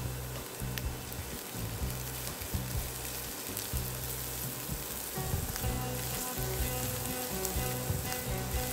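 Onion and garlic fry in a pan, a steady, close crackling sizzle that runs throughout with brief stirring sounds, fairly quiet overall.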